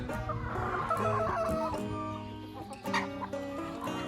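Chickens cluck and a rooster crows inside a chicken coop, a dense, continuous chorus of overlapping fowl calls close by and loud throughout.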